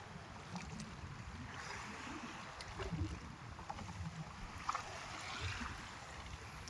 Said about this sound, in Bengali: নৌকো প্রচণ্ড দুলছে